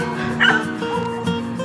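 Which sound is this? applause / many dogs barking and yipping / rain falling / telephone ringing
many dogs barking and yipping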